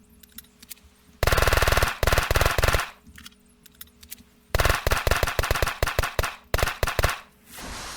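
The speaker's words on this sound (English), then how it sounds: "it looks like that just did 70 shots to take out that tree with a Viper" The Viper, a secondary gun in the video game Unturned, fires at a tree in rapid automatic bursts of loud, sharp, evenly spaced shots, with short gaps between the bursts and no talking.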